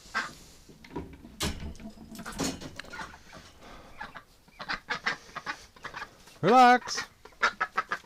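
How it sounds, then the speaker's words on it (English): Farmyard ducks and geese in a wintering pen call in bursts, one loud honking cry standing out near the end, with a person talking softly and a door-like clatter in between. "I hear a whole bunch of ducks"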